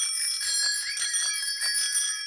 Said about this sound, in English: Who's got the loudest bell?